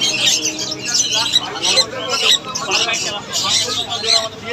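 Caged birds at the Sherampore pet market, including monk parakeets, keep up dense shrill chirps and squawks in overlapping bursts, loud and close, over a background murmur of people.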